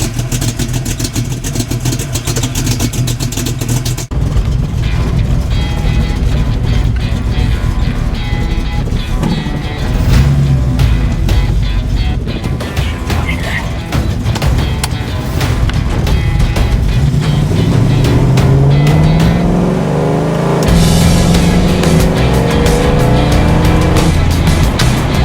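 A 1969 Ford Mustang Mach 1 running on a neighborhood road, its V8 a loud, continuous engine rumble with shifting revs and tire noise throughout, no speech over it.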